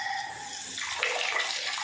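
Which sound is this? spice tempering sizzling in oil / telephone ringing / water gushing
water gushing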